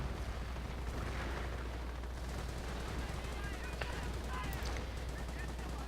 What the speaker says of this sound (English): This is absolutely insane how much artillery is coming down on the field.